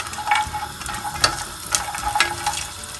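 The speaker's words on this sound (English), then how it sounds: "Now I am going to roast these together in this ghee" Almonds and other nuts roasting in ghee over a medium-low flame for paneer kheer: a soft sizzle with irregular clicks and scrapes as a spoon stirs the nuts in the pan. No one speaks.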